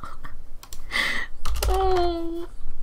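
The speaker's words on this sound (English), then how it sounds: "I should stop typing higher numbers into this thing." Quick clicks of typing on a computer keyboard while playing a corrupted Undertale, the tapping mixed with warbling electronic game tones and short bursts of glitchy sound.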